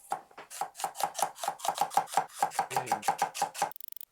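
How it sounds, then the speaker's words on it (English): Jalapeños are chopped with a knife on a board in a fast, even run of about twenty close, crisp thuds. "we'll get the jalapenos chopped up ready"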